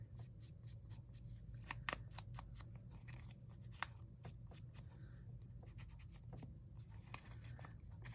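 Scissors trim a paper belly band at a craft table, giving a run of quick, crisp snips and rustling paper handling close by over a steady low background hum, with no talking.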